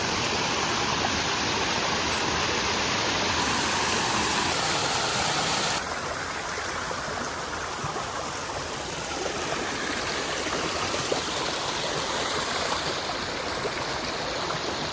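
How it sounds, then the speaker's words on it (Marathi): A crystal-clear forest stream flows near a hidden waterfall, rushing steadily and loudly with no pause, its tone shifting slightly partway through as the position changes. "ती पण जी व्हाळी आली आहे वरून, ती पण रांगणागडावरूनच आली आहे."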